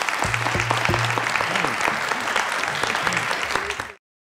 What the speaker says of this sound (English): let's give one big more round of applause for our speakers